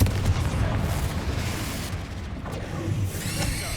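Explosive Confringo spell blast in Hogwarts Legacy, a rumbling boom that fills the clip with continuous low crackle and debris-like texture, with no talk.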